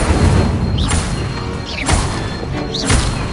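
Incendio fire spells cast in Hogwarts Legacy: three loud, sharp whooshing bursts spaced about a second apart over a steady, busy game soundscape.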